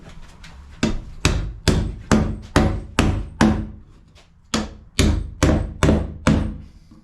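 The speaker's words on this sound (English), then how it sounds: "I'm going to hammer them in everywhere I want them" Electrical receptacle boxes are hammered into place in an office wall: about fourteen sharp, close hammer blows in two rhythmic bursts separated by a short pause, with no talking.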